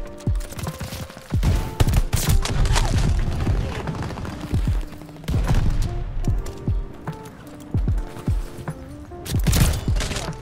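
A video game weapon fires in repeated bursts of rapid shots, loud thumping gunfire clustered in several volleys with brief pauses between them.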